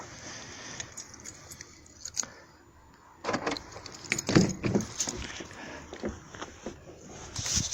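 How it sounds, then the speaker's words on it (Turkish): Car keys jangle and clatter while being searched for beside an Opel Vectra C, a few metallic rattles and handling noises up close, with quiet stretches in between and no speech. "Tabi anahtarlarımı bir bulayım."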